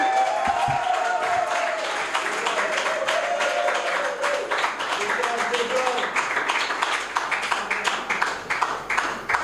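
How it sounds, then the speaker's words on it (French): Standing audience applauding at a gathering, a sustained crowd of clapping with rhythmic claps coming through near the end and voices talking under it. "je vous demande de vous mettre debout et d'applaudir"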